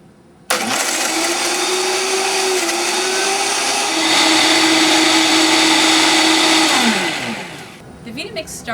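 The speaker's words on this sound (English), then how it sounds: "Vita-Mix started off slow. It wasn't really getting to the orange" A Vita-Mix blender chews through a whole orange with its peel, roaring steadily after an abrupt start, its motor pitch dipping and climbing as the load shifts before it winds down near the end.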